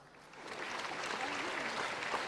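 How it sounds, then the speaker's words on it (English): Crowd clapping for a comedian on a morning show, a soft wash of applause that builds and sustains, with a voice faintly audible over it. "Please clap."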